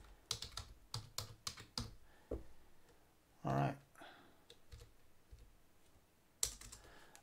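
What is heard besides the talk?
typing on a computer keyboard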